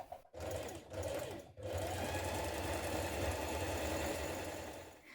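A sewing machine stitches leggings fabric up close, a loud continuous mechanical whirr of the needle after a couple of brief starts and stops, with no talk over it.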